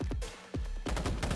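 Revolver gunshots ring out in Cyberpunk 2077, several loud booming reports in quick succession with echoing tails and overlapping game combat noise, no voices.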